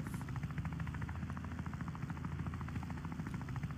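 Helicopter in the video game Wobbly Life, a steady close rotor thrum with rapid blade chop and an engine whine, continuous and alone for a few seconds.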